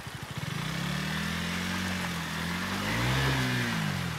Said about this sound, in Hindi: स्कूटी मस्त जा रही है यार